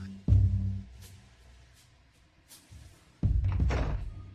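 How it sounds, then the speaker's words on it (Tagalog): A door is shut twice with heavy thuds, one sharp slam at the start and a second, longer thump with rattling a few seconds later. Quiet pauses separate the two. "Isara mo ang pinto paglabas mo."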